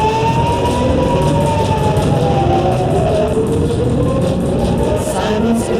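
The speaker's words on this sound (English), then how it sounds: "Sirens erupt across cities." Air raid sirens wail steadily across a city under a missile barrage, long rising and falling tones layered over a dense, continuous rumble of background noise.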